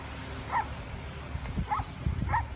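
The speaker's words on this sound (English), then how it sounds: "Shut up, you fucking barking thing." Small dog yapping in a park in Torquay, Victoria, a few short barks at intervals over outdoor background noise and low rumble.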